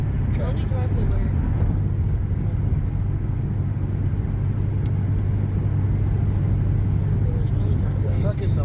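A car drives along a road during a driving lesson, giving a steady low road and engine rumble with a man and a learner talking over it.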